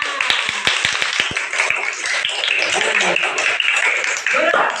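A classroom of students claps hands during an Islamic studies lesson, with a few sharp, separate claps in the first second and a half before voices and talk take over.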